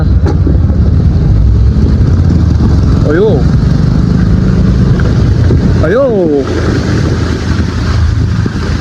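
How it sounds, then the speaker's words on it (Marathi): Vehicles splash through a deeply waterlogged road near a tunnel during heavy rain, their engines rumbling loudly and continuously under wind buffeting the microphone. One vehicle passes close by, and a man exclaims briefly over the noise. "ह्यातलं पण गाड्या येतात बाबा"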